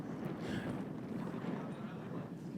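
Wind gusts across an outdoor disc golf course at the US Disc Golf Championship, a steady broadband roar with low buffeting on the microphone, loud and continuous throughout.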